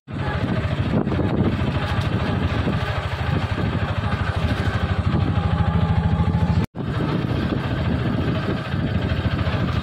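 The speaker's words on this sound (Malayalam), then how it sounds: "അവിടെ നിലം ഒരുക്കുന്നുണ്ട് ട്രാക്ടർ" A tractor engine churns steadily while preparing a field in a village near Bathery, a loud, constant mid-pitched drone running almost unbroken, with one sharp momentary dropout near the end.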